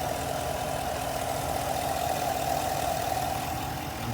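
A 2020 Chevrolet Silverado High Country engine idles steadily and close, a continuous even hum with a faint knock-like texture and no voices.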